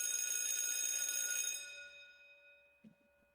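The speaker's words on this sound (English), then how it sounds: "My phone has decided to beep at me." A mobile phone gives off a bright, ringing electronic tone that holds steady, then fades away over about a second, followed by a brief soft thump near the end.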